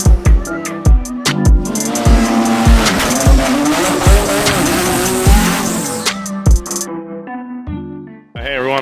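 A 2015 Nissan GT-R race car roars past at a GT-R World Cup event with rising and falling engine revs and sharp gear-shift bursts, loud and close, ending in a brief drop before revving again.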